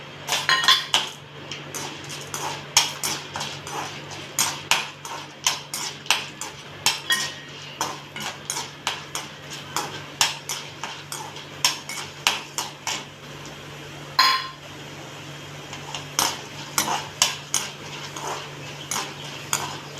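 Urad dal, chana dal and chillies sauté in oil while a metal spoon clinks and scrapes against the pan in a steady rhythm of sharp taps, close and fairly loud over a low background hum.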